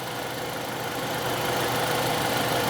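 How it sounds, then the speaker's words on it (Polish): A car engine idles steadily with the air conditioning running during an AC repair, a close, even mid-pitched hum and rumble with no talking. "15 minut teraz silnik musi non-stop chodzić z włączoną klimatyzacją"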